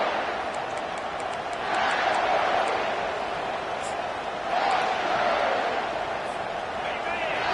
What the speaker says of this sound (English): The roar of the crowd trying to fuel this defense